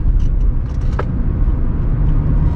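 A Suzuki Swift 4x4 drives along with a steady low engine drone and road rumble heard from inside the cabin, a faint click partway through and no voices.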